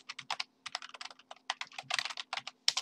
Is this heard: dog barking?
no